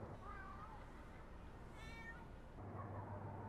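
Cats meowing in the town of Onomichi in the video game Yakuza 6, a few short mews over a soft ambient game background, moderately close, with no speech over them.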